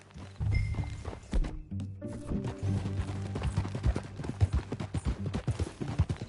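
Horse hooves clip-clop steadily at walking pace under a rider, close by, with a brief pause before the rhythmic hoof falls resume and continue to the end.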